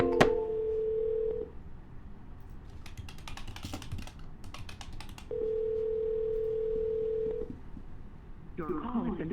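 Ringback tones of an outgoing cold call to a property seller, two long steady beeps separated by a pause, with keyboard tapping and a brief burst of voice near the end.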